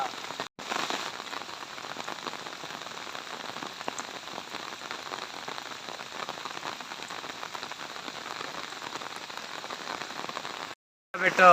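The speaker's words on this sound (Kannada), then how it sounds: "ಗ್ರಾಮದಲ್ಲಿ ಸಿಕ್ಕಾಪಟ್ಟೆ ಮಳೆಯಾಗಿದೆ" Heavy coastal monsoon rain pours down steadily on a Karnataka village in a dense, continuous hiss, briefly cut off near the start and again near the end.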